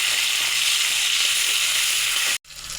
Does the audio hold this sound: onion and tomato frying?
yes